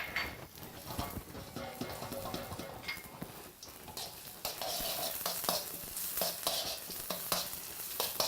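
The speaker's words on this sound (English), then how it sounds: "I'm just going to put maybe a tablespoon of peanut oil in there. And very quickly stir fry my onion." Onion stir-frying in about a tablespoon of peanut oil for Singapore noodles: a steady close sizzle with repeated scraping and stirring strokes of a utensil in the pan, continuous with no one talking.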